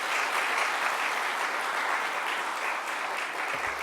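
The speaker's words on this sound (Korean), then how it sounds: "우리 박수로서 맞이했으면 좋겠습니다" A church congregation applauds warmly to welcome a guest preacher. The dense, even clapping continues for the whole stretch at a steady level and eases slightly near the end.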